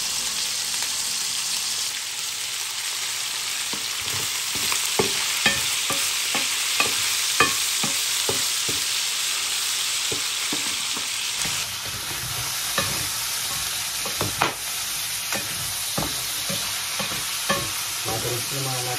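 Vegetables for a Filipino dish with coconut milk fry in a pan with a steady loud sizzle, while a utensil scrapes and taps against the pan in repeated stirring strokes. No one speaks.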